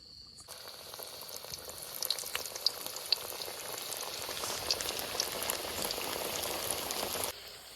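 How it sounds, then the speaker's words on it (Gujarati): Potato chips fry a second time in hot oil, a dense, steady bubbling sizzle with scattered sharp pops. It is close and continuous, fading up at the start and cutting off near the end. "હવે ભાયા આપણે ચિપ્સ ને બીજી વાર થોડીક તળે નાખીએ એટલે ક્રન્ચી થઈ જાય ભાયા."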